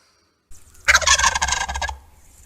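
A turkey lets out a single loud, rattling gobble lasting about a second, close and alone against a quiet background.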